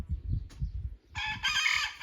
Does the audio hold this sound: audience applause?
no